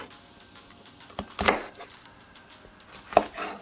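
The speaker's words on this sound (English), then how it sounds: "I'm just going to cut my peppers in half, just like this" Scotch bonnet peppers are halved with a knife on a cutting board, two sharp, close chopping knocks, quiet and separated by a pause.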